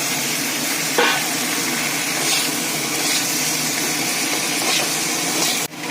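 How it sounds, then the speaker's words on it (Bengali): Cauliflower hits hot spiced oil and sets off a loud, constant sizzle at close range. The hiss holds steady for several seconds before a brief drop near the end. "এই মশলাটা একটু কষিয়ে নিলাম এবার ফুলকপিটাকে ঢেলে দিচ্ছি"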